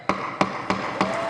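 Four sharp wooden gavel knocks, evenly spaced and close, each one a crisp single strike.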